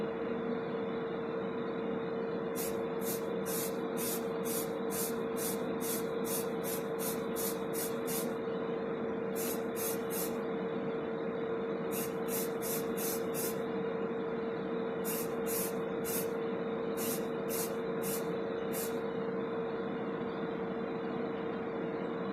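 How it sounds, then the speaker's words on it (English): Short aerosol bursts of cheap black spray paint coat the base of a die-cast ERF dump truck model, a dozen or so quick hissing puffs in clustered runs over a steady background hum, close and fairly loud. "first up, some Pound Shop Black on the base. Give it a quick spray."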